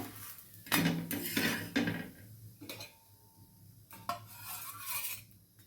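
A cooked paratha lifted off a hot pan, with metal scrapes and clinks of a spatula against the pan in several short bursts, close and fairly soft, with no voices.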